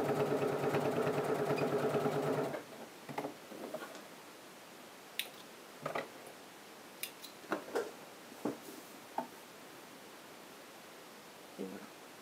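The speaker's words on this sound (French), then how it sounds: "on peut faire une petite surpiqûre tout le long" Sewing machine topstitching along a trouser fly runs in a steady, fast rhythmic stitch for about two and a half seconds, then stops, followed by scattered soft clicks and handling taps.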